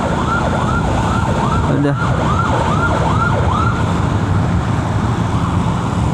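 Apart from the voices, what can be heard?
ambulance siren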